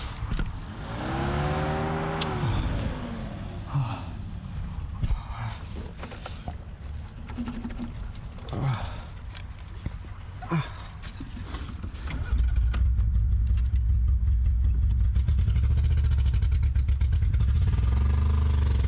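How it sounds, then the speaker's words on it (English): An abandoned Ghostbusters Ecto-1 car, a forgotten vehicle being restored, first turns over with a rising, whirring crank that repeats and falters, then catches around the two-thirds mark into a loud, steady engine rumble. "It's not catching, something is interfering with the ignition."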